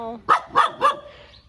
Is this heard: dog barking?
yes